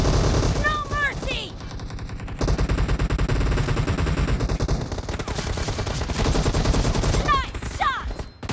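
Rapid bursts of automatic gunfire and single shots crackle through a team deathmatch round of a shooter video game, dense and loud throughout, with game announcer voice lines over the shooting.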